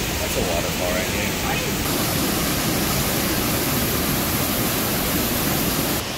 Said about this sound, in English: That's a waterfall right here.